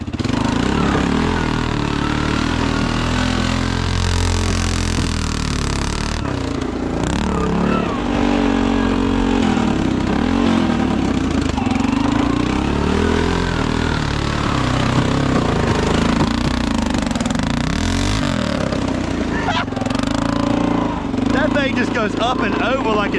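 A Honda ATV, a Fourtrax 300 or Rancher 350, climbs up and over rough terrain, its engine droning loudly and continuously with shifting load and revs while someone talks over it throughout.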